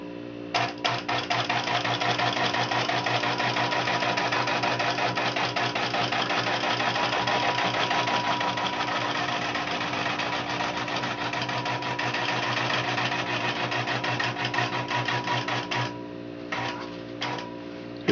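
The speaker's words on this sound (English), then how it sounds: "So now I'm going to baste to bring up my thread, do a couple securing stitches" A longarm quilting machine sews basting stitches through a quilt, bringing up the thread and making a few securing stitches. It gives a steady, fast mechanical whir and tick for about fifteen seconds, then stops with a few short bursts.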